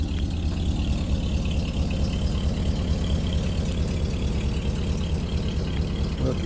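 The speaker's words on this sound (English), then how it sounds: "Doesn't have a crazy choppy idle." A 1964 Oldsmobile Cutlass F85 convertible idles smoothly: a steady, even low rumble that stays close and constant throughout with no choppiness.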